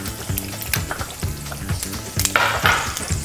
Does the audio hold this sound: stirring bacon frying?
yes